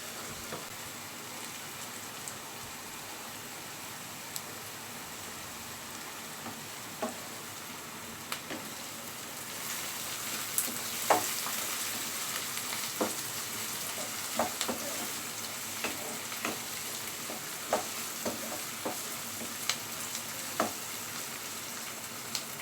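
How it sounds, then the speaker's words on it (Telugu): Onions fry in a pan with a constant sizzling hiss, broken by scattered sharp taps and scrapes as they are stirred, steady and close with no voices. "కలర్ చేంజ్ అయ్యేంత వరకు ఫ్రై చేసుకుందాము. మధ్య మధ్యలో కలుపుతూ ఉండాలి."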